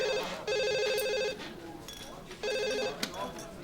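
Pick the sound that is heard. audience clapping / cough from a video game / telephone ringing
telephone ringing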